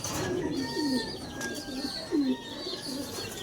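Pigeons coo in a breeding loft, several soft rolling coos repeating at close range over a steady background of other birds and faint chirps.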